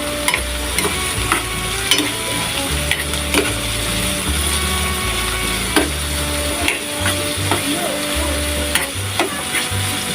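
Baguio beans and ground pork sizzle in a pan while being stirred, a constant close frying hiss broken by repeated scraping and clacking strokes of the utensil against the pan, with no voices.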